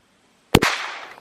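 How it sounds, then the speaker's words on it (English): One loud, sharp gunshot from a 9mm pistol fired at a cheap padlock, close up, followed by a short echoing decay after the crack. "Blew a big old chunk out of the side with that 9mm, but it's still locked. So let me shoot it one more time."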